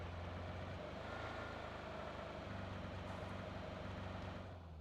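A vehicle engine in a multiplayer shooter game, droning as a low, steady, quiet rumble with a faint tonal hum that holds evenly throughout.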